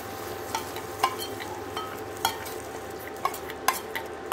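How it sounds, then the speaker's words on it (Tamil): Wheat halwa with melted caramel being stirred in a pan: steady soft scraping and gentle sizzling throughout, with a few sharper clicks of the spoon against the pan, close and moderately quiet, no talking. "இப்போ நல்லா கிண்ட கிண்ட கேராமல் வந்து கரைஞ்சிடும்"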